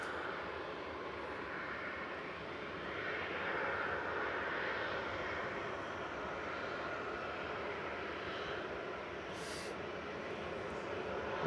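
A Ryanair airliner arriving at Manchester Airport, a steady broadband engine roar that holds fairly loud and constant throughout, with no talk.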